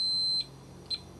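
A kitchen-style timer beeps while resin is being mixed, two short, high electronic beeps about half a second apart, loud and close, with no talking.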